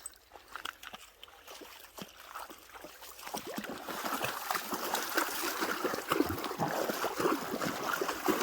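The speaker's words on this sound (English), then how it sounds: "You ready to cross this river?" A river crossing at a campsite, with flowing stream water that swells from a quieter start into steady broadband rushing and sloshing close by, with no talk.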